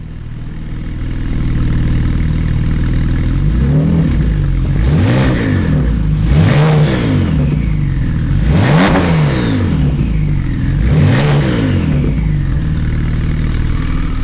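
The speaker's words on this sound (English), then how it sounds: "rev the car a little bit and show you guys how loud the spool noises from the turbo are" A Porsche Carrera S (Stage 2, 450 hp) turbocharged engine with modded exhaust idles loudly, then revs up four times in rising and falling sweeps, each rev carrying a whistling turbo spool.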